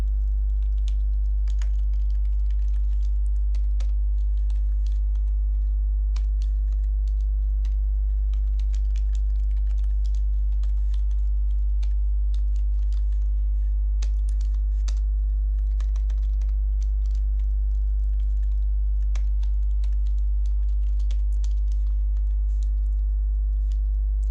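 Steady typing of code on a computer keyboard, a continuous run of light, irregular key clicks over a constant low electrical hum, with no talking.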